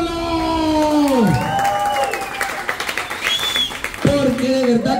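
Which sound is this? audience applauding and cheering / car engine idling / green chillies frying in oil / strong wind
audience applauding and cheering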